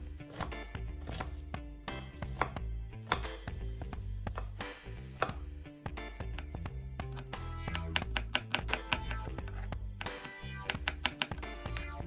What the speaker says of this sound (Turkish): kesme tahtasının üzerinde soğan ve sarımsağı ince ince doğrayalım.